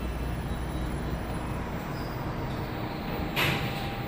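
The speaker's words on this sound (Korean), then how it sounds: "조금 기다리니 수인 분당선 열차가 들어왔습니다" A Suin-Bundang line subway train arrives at the station with a steady, loud rumble and rail roar, and a sharp screech or hiss near the end as it pulls in.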